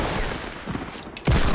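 Gunfire in the Fortnite battle royale game: a steady wash of game noise ends in a sudden loud, close blast that rings on to the end, with no talking.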